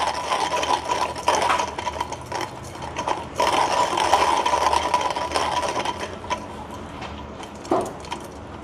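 A hand coffee grinder crushing coffee beans, a steady close grinding rattle with a regular mechanical ticking that fades near the end as the last beans go through.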